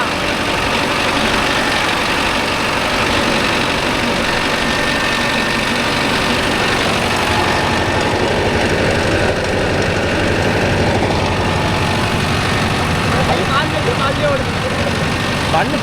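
A Mahindra Arjun Novo 605 S tractor drives a rotavator through a field, its heavy diesel engine holding a steady, loud, continuous drone throughout while someone talks over it.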